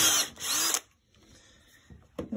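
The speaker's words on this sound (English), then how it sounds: "I'm just drilling a pilot hole." A power drill whirs in two short, loud bursts close by, drilling a pilot hole in a wooden log for a futon leg, then stops, leaving quiet with faint handling noise before it starts again briefly.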